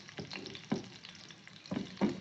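Garlic and curry leaves frying in hot oil for a Kerala-style onion pickle, a soft, steady sizzle with a few brief crackling bursts, close by and fairly quiet, with no talking.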